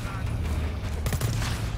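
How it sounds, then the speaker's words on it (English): Heavy hell gun fire in a shooter game, a dense sustained burst of rapid shots with loud low booms throughout, surging harder past the midpoint. "I am not used to this hell gun anymore"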